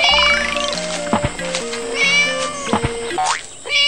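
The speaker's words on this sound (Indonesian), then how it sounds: "Sepertinya aku mendengar suara kucing." Animated cartoon cat meowing loudly and close, several bright drawn-out meows in a row with pitch slides, alone without speech.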